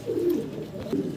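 White Mundi pigeons brooding eggs in a large loft give soft, low cooing, a steady rolling call near and alone, rising again toward the end.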